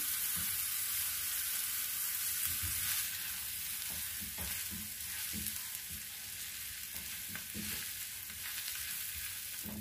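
Boiled, mashed potatoes fry with a steady sizzle in a pan, with occasional scraping stir strokes over the constant crackle and no talking.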